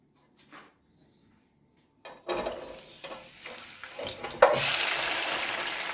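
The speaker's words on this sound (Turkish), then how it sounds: "Sıra geldi son olarak da biberlerimizi kızartmaya." After a near-silent start, oil begins sizzling and crackling as peppers hit the pan, the frying swelling into a loud, continuous hiss.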